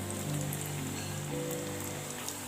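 Samosas deep-frying in a pan of hot oil give a steady, close, dense crackling sizzle that carries on without a break, with no voices.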